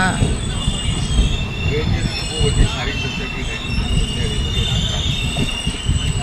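The Okha–Ernakulam Express rolls along the rails just after leaving Ratnagiri station, with a dense, continuous rumble and rattle of wheels on track and a faint high squeal, loud and close from inside the moving coach.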